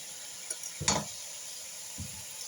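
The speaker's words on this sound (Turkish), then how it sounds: "Tekrar hepsini beraber kavuruyorum." Spinach, leek and lentils are sautéed together in a pan for a vegetable soup, giving a faint steady sizzle with a couple of brief stirring scrapes.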